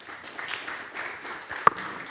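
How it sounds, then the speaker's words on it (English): Audience applauds a speaker at a technical conference talk, a short burst of scattered clapping from a room of listeners with a couple of sharper claps near the end. "a round of applause for him too"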